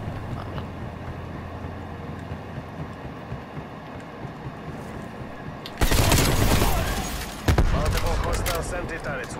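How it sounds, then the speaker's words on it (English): Sentry turret gunfire in Call of Duty: Cold War: after a quieter rumbling stretch, two loud, rapid bursts of automatic fire break out in quick succession, with voices talking in the background. "Enemy sentry turret detected in your AO."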